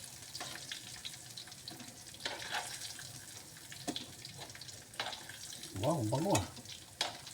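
Onion and garlic fry in a hot pan with a steady sizzle as they are stirred, punctuated by scraping clatter and a brief voice speaking.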